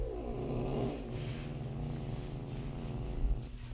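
A pet cat purrs up close, a steady low rumbling throb that pulses evenly for several seconds with no talking over it.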